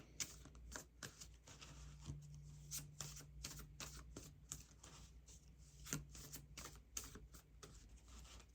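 A deck of cards is shuffled during a tarot reading: rapid riffling bursts of crisp paper flicks come in uneven clusters, close and fairly quiet, with brief pauses between shuffles.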